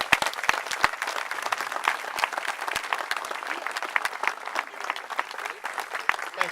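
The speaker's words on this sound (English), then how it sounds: "Give these folks a round of applause for what they do." A banquet crowd at an annual dinner for the installation of directors claps steadily, crisp individual hand claps close by over a continuous patter of applause lasting throughout.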